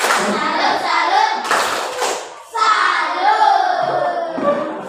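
Schoolchildren in a classroom perform a rhythmic 'tepuk salut' clapping cheer, with loud, close bursts of patterned claps and a brief pause midway, while their voices chant along.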